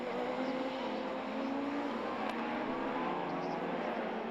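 Rallycross race cars, including a Renault Megane and an Opel Corsa, compete at a Belgian RX round, a continuous engine roar of several cars held at high revs, steady and fairly distant.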